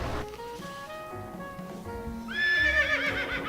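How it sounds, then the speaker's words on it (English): A horse neighs in Farming Simulator 2017 on a classic farm during a sugar beet harvest: a loud, close whinny that shakes and rises into a sharp, bright squeal, heard alone with no talking. "Let's give this horse some hay while we're waiting."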